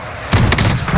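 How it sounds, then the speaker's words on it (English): A single sniper rifle shot in Call of Duty Modern Warfare, a sudden loud crack bursting in after a brief quiet moment and ringing out with a rough tail. "I'm about to snipe one of them"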